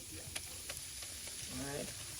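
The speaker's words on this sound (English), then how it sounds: "Burn some butter for curry and I add." Butter and curry powder fry in a pot for a Jamaican Christmas goat curry. The sizzle is steady and close, with a few sharp clicks of a utensil and a short stirring scrape near the end.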